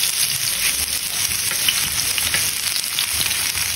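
Ginger sizzles steadily in hot oil, a loud, close, continuous frying hiss with no voices.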